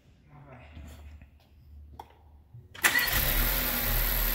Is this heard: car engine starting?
yes